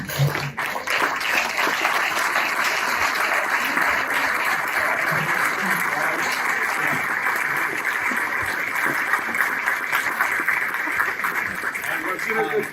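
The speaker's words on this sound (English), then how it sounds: "the Venice Interfaith Community Association could stand up so that everyone could give them a round of applause" Sustained applause from a crowd, steady and fairly loud throughout, with scattered voices faintly underneath.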